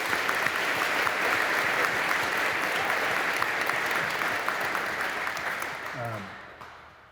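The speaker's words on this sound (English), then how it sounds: "So I'll just give another round of applause for the national anthem." Audience applause at a 91st Missile Wing change of command ceremony, following the national anthem: a dense, steady wash of many hands clapping, sustained for several seconds before tapering off at the end.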